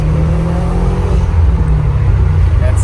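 A turbocharged Subaru engine pulls hard and loud from inside the vehicle, its steady drone dipping briefly partway through as a gear change comes.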